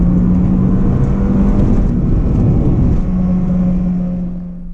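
A 2005 Acura RSX base engine revs hard and steadily at close range, a loud continuous drone with a sustained tone that holds for several seconds before easing off at the end.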